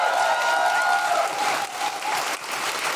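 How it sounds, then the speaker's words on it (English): A live podcast audience applauds guest Desiree Burch, a steady wash of crowd clapping that holds fairly evenly, with a faint tonal hum underneath. "Help us in giving a big round of applause for Desiree Burch."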